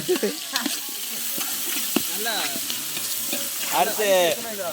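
Onion, green chili and tomato frying and being stirred in a pan, loud crackling sizzle with scraping stir strokes and bursts of spattering, close and continuous, with faint voices in the background.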